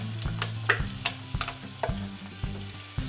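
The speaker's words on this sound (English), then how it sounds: "we are going to take that onion that we have diced and chopped up, and we're going to put it right into the pan" Diced onions hitting a hot pan and frying for lemon dill chicken: soft sizzling broken by repeated sharp scraping taps as they are pushed around, close and fairly quiet, with a low steady hum underneath and no talking.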